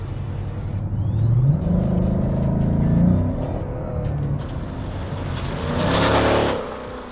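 2018-2023 Ford Mustang GT V8 with a Ford Performance by Borla Touring catback exhaust and quad tips accelerating, a deep rumbling growl that rises in pitch and swells louder, then eases off near the end.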